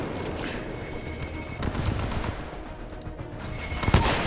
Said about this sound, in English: Stop shooting my mech!